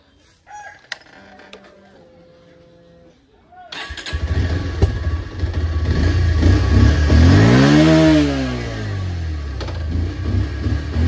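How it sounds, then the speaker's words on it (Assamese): After a quiet start with a few faint knocks, a Bajaj Pulsar 125 motorcycle with a starting problem starts up, revs loudly in a rising and falling sweep, then settles into a steady idle. "বাইকখন বাৰু ঠিক চাই ষ্টাৰ্ট লৈছে"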